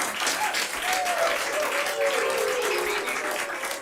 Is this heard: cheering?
yes